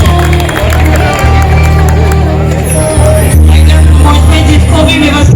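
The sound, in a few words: applause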